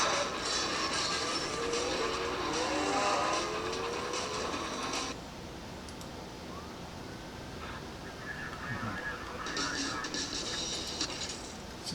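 Racing game audio from Need for Speed Most Wanted played on a Dell E1505 laptop, with dense engine roar and whine loud for the first five seconds, dropping to a quieter hum, then swelling again near the end.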